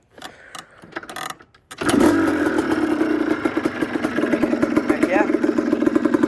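A Yamaha Blaster ATV engine with a freshly rebuilt top end fires up after a brief silence and settles into a steady, close, loud idle with a rapid pulsing putter; someone talks briefly over it.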